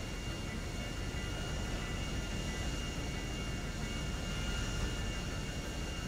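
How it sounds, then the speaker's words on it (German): Enemy Hydra jet in GTA V Online, a steady, faint, broadband roar with even whooshing noise that holds without change. "Oh, da ist ein gegnerischer Jet."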